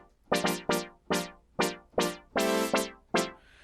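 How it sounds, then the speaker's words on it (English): Resonant brass synth preset from the OBX64 plugin plays a string of punchy stabbed chords, each with a bright swelling attack and quick decay, about nine hits in an uneven funky rhythm, loud and alone. "choose brass, and in there you're going to have a sound called res brass"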